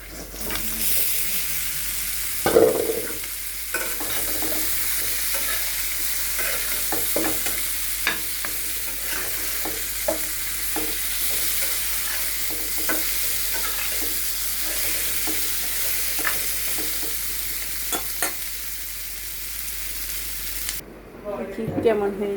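Meat fries with spice paste in a pan for kacchi biryani, a steady hissing sizzle with repeated spatula scrapes and stirring clatter throughout, a loud thump early on, then an abrupt drop near the end.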